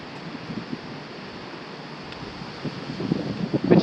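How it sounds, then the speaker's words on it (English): Wind rushing across the microphone in a low, steady roar that swells and buffets toward the end, outdoors on a house roof beside a passive wind turbine. "it's blowing, it's windy"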